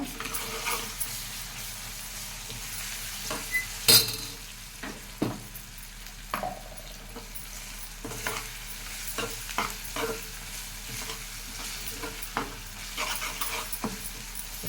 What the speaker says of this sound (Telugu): చక్కగా ఉల్లిపాయలు నేను మన అల్లం వెల్లుల్లి పేస్టు వేసుకోవాలి